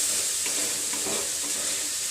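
Masala spices fry in a pan while a jackfruit curry is prepared, giving a steady, close, dense sizzle and hiss with no pauses and no talking.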